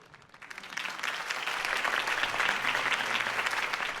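Crowd applause follows a campaign speech in Batman: The Telltale Series, a dense patter of clapping that swells quickly and holds steady at a moderate distance.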